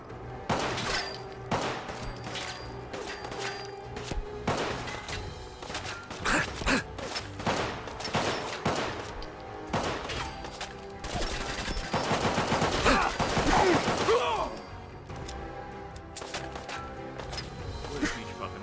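Gunfire in the Fallout 4 video game, with repeated shots and bursts scattered across the clip alongside game effects and a voice, and a denser stretch of fire in the middle.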